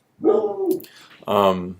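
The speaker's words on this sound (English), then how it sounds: "that's the dog that I live with" A house dog gives two close, drawn-out whimpering howls, the first long and wavering, the second shorter and rising, separated by a brief pause and a faint murmur.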